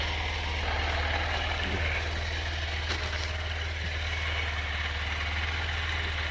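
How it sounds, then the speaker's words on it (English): A Honda CB125F motorcycle engine idles steadily while warming up, a low continuous thrum that stays even and close throughout with no revving or talk. "we'll start the bike up, we'll let it warm up"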